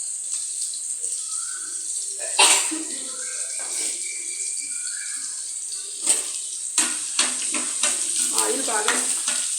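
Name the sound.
hot oil sizzling in a pan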